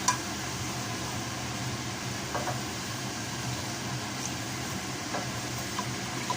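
Spice paste (masala) sautéing in a pan in a home kitchen before rice is added, a steady low hiss of sizzling with faint scattered stirring clicks, quiet and continuous with no talking.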